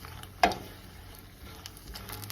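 A steady, faint sizzle of garlic frying in hot oil, with a single sharp clink near the start.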